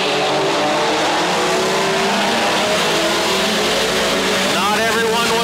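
Mini stock cars (Pinto, Colt, Corolla class) racing at Petaluma Speedway, a dense roar of several engines accelerating together at the green flag, with a track announcer calling over the din.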